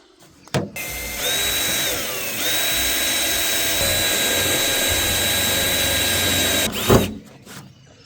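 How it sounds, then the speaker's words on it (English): A power drill bores holes in a car bonnet, a loud steady whine lasting several seconds with a brief dip in pitch and sharp clunks at start and finish, close up. "we'll drill these holes first"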